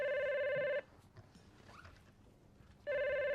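A telephone rings twice with a bright, loud electronic trill, each burst under a second, separated by a quiet room pause of about two seconds.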